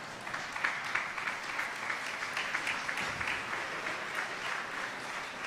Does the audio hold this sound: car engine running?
no